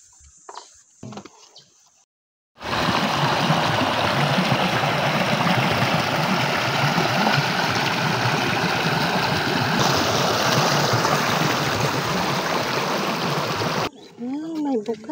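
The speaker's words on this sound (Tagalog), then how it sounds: "May bukal siya. Diyan lang lumalabas yung tubig niya." Spring water wells up and pours out into a river at Barangay Cawag in Subic, Zambales, a loud, continuous close-up rush that fills most of the clip, with brief voices before and after.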